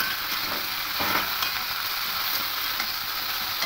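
Okra fries in a pan with potatoes while being stirred in, a steady, close hiss of sizzling with soft scraping strokes throughout.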